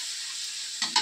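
Chicken leg pieces fry in a pan for kosha, giving a steady close sizzle that is broken by two quick scraping stirs near the end.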